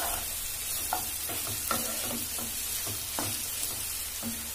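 Minced Nutrela soya chunks stirred in a hot pan, a steady oily sizzle broken by a run of soft scraping and clacking strokes of the spoon, close up with no talking.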